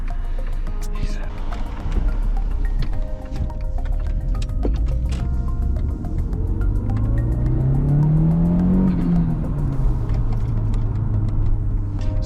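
Year 2000 Mark IV Golf GTI on the move from inside the cabin, a constant engine drone with revs climbing steadily, peaking, then dropping after a shift, over road rumble.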